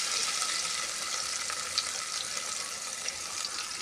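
Potatoes with turmeric and a pinch of salt fry in a pan, giving a steady, dense sizzle that stays even and close throughout with no talking.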